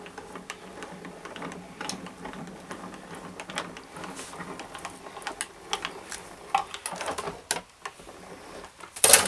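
A TODO crafting machine set up for hot foiling rolls its plate through, giving a run of dry, irregular mechanical clicks and ratcheting ticks up close, ending in a sharp louder clack.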